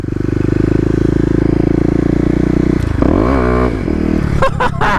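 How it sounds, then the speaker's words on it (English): A Kawasaki KLX250 motorcycle doing a burnout, its engine droning loud and close at steady revs, then rising and falling as the rear wheel spins, ending in scraping clatter. "I'm not getting traction, and I'm just spinning the wheel"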